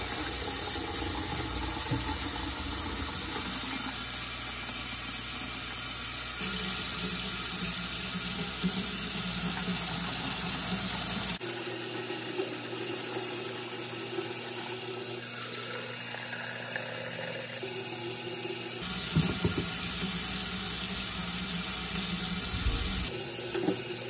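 Hot water gushes steadily from a tap into a measuring container for mixing DIY aquarium water conditioner, a continuous loud splashing stream that changes pitch and fullness as the level rises, with no talking.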